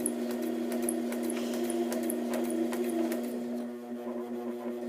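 A sewing machine stitching steadily, a close, even motor hum with a fast mechanical ticking, running alone before slowing and dropping away near the end.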